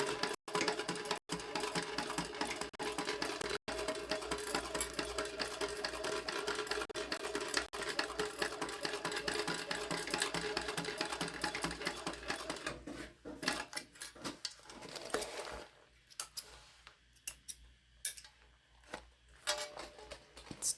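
A sewing machine stitches the boxed corners of a fabric tote bag, running in a fast continuous whir for long stretches, then breaking into short stop-start bursts and pauses near the end.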